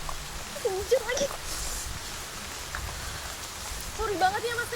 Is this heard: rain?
yes